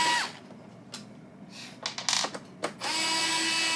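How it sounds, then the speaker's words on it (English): Screws being unscrewed from a Xiaomi robot vacuum G1 during a suction fan replacement, heard as a power driver whirring in short bursts with sharp mechanical clicks and a steady tool hum near the end. "I'm just gonna unscrew the screws"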